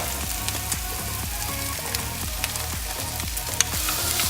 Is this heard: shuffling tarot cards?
no